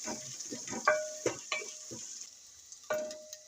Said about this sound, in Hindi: 1 मिनट हो गया था लहसुन अदरक को भी इसके साथ फ्राई करते हुए